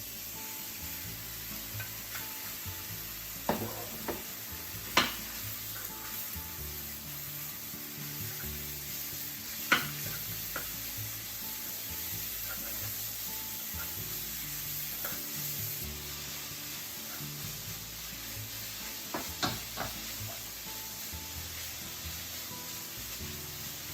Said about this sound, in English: Heat a frying pan over medium-high heat and let's cook the pork